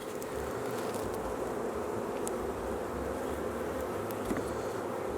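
Honeybees swarm around a hive relocated from a porch, a dense continuous buzzing close to the microphone with a few louder passes of individual bees.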